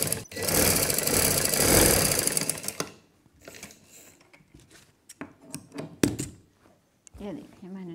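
A sewing machine stitches a sleeve onto a baby girl's frock, running in a loud steady whir for about three seconds, then falling to scattered clicks and thumps of handling with a brief voice.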